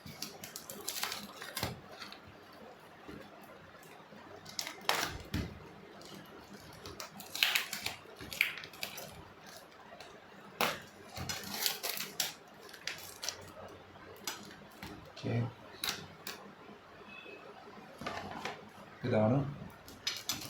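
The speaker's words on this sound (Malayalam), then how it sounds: "നമുക്ക് ബിരിയാണി അൺബോക്സ് ചെയ്യാം." Takeaway packaging for Kerala chicken biryani is opened up close, with repeated crinkling, tapping and rustling of container and wrap. A voice speaks briefly between the handling noises.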